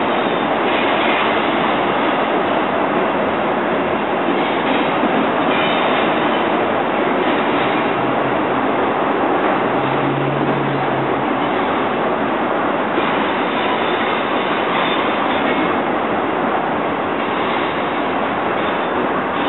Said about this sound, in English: He's a pretty long train tonight.